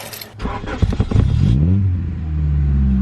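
A Honda Prelude engine, fresh NGK spark plugs installed, cranks briefly and catches, then settles into a steady, close, even idle rumble with no voices over it.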